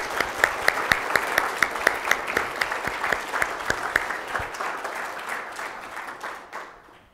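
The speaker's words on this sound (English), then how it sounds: "don't give me a clap, give Mark a clap, because he did all of this work" Audience applause at a PostgreSQL performance presentation, a dense burst of clapping from a modest crowd that holds steady for several seconds and then tapers off to quiet.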